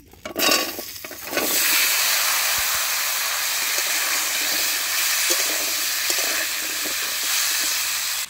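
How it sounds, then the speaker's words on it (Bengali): Taro pieces dropped into hot oil, a loud sudden burst of sizzling that settles into a steady, dense frying hiss, close and continuous. "ওই তেলের মধ্যেই আমি কচুগুলো ভেজে নেব আগে"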